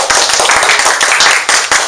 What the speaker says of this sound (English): One more round of applause for Jenny Campbell.